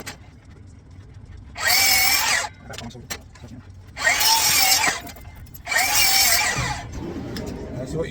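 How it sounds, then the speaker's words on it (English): A miter saw cuts timber side pieces for a window frame in three loud whining bursts, each a couple of seconds long, separated by quieter spin-down and handling noise, close by. "So now we're going to cut these 2 side pieces off on the miter saw"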